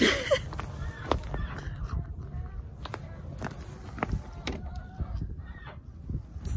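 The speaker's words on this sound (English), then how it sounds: "And the rooster." A rooster, chickens and geese cluck and honk intermittently nearby, with scattered footsteps and light rustling outdoors.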